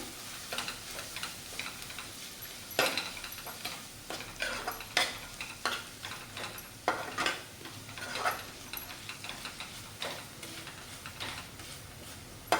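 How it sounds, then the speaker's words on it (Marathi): Garam masala with tomato and onion being sautéed in a pan for misal, a soft background sizzle broken by regular spoon taps and scrapes against the pan, fairly quiet and without speech. "एक ते दीड चमचा मस्त असा गरम मसाला छान असं परतून घेऊया"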